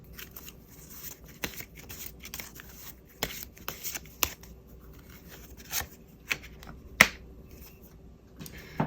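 Tarot cards handled and drawn at a table, making soft close slides, flicks and snaps scattered irregularly, with a few sharper card taps standing out against near silence.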